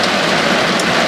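Rain drums steadily on the roof and windows of a parked car, a dense, loud, even hiss heard from inside the cabin with no break.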